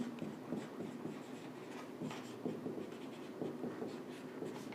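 Marker or chalk scratches across a classroom board during a physics lesson, a series of quick, close strokes in short bursts with brief pauses between, fairly quiet and with no speech.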